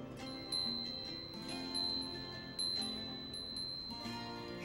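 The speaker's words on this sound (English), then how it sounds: "It has a very beautiful chime." Ornamental wind-up clockwork chiming in a video game: a steady ticking runs throughout while bright, sustained bell tones ring out in a repeating sequence, alone with no talk.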